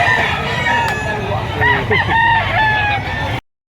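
Several roosters crow over a busy backdrop of clucking chickens and low crowd murmur at a chicken market in Lipa, with a voice speaking briefly amid the birds.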